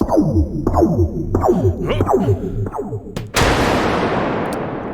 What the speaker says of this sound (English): This is an EMP Grenade, which we engage with a click